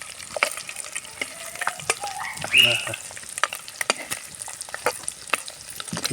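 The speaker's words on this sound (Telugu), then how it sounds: "చక్కగా వేగుతున్నాయి" Boiled eggs fry in hot oil in a pan for egg masala fry, a close, busy sizzle with frequent stirring taps and scrapes throughout.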